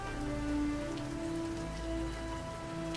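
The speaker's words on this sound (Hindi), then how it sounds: "बुजुर्ग मोहनलाल गांव वालों को इस तेज बारिश में मंदिर में शरण लेने की सलाह देते हैं।" Heavy rain falls on surfaces as steady hissing patter, moderately faint, with sustained tonal hum layered underneath throughout.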